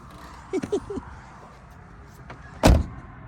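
A few quick mechanical clicks as the little door lever is pulled, then a single solid thunk of a car door opening nearby, followed by quiet.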